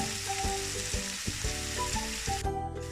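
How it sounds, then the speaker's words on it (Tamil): Thinly sliced medium onions sauté in a pan for chicken dum biryani, giving a steady, close sizzle for the whole stretch with some stirring, and tonal background music running beneath. "இந்த வெங்காயம் வதங்கி கொண்டிருக்குது."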